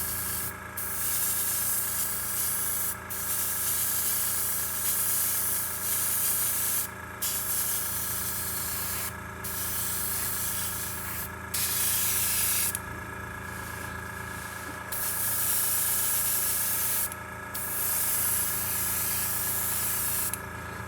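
An airbrush sprays base coat paint onto a model in close, loud hissing bursts, each several seconds long and separated by brief pauses, over a faint steady background hum.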